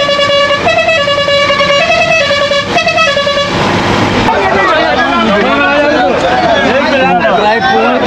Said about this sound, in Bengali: এই পাশে প্রচণ্ড আওয়াজ, কেন কি প্রচণ্ড দেখছি হর্ন বাজাচ্ছে।